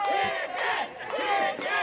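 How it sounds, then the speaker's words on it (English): A wrestling crowd jeering and chanting at a wrestler who ran out of the ring, loud rhythmic group shouts rising in waves. "the crowd really giving it to Luke Fury for running out of the ring, calling him chicken"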